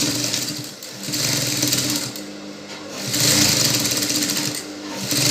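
A sewing machine stitches a T-shirt sleeve with an Ankara fabric strip, running in close, steady whirring bursts that swell and ease, with no speech.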